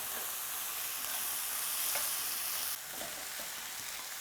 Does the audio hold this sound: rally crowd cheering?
no